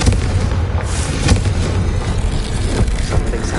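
A Confringo spell explodes in the video game Hogwarts Legacy, giving a loud, booming blast that rolls into sustained rumbling noise with a few heavier thuds.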